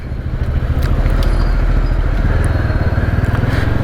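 Motorcycle riding along a road, its engine a steady, loud, close low rumble with faint clatter throughout.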